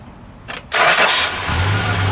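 A 1970 Plymouth Superbird's 440 V8 engine cranks briefly, catches, and settles into a loud, steady low rumble close by.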